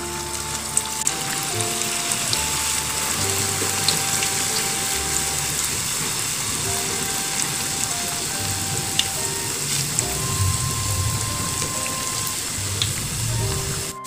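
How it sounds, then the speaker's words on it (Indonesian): Flour ring snacks fry in hot oil over medium heat, giving a continuous close sizzle and bubbling with occasional pops. "kita goreng ya"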